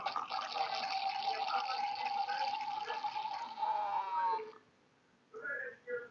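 Wine poured through a wine aerator into a glass gives a steady gurgling, bubbling flow for about four seconds, close and fairly loud, then stops, followed by brief faint clinks or handling noise.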